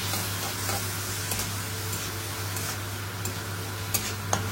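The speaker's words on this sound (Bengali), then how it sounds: "তেলে আগে থেকে কুচিয়ে রাখা পেঁয়াজ, রসুন, টমেটো আর কাঁচা লঙ্কা দিয়ে দেওয়া হলো।" Chopped onion, garlic, tomato and green chilli sizzle in hot oil, a continuous close hiss with occasional spoon clicks and stirring scrapes over a steady low electrical hum, no one speaking.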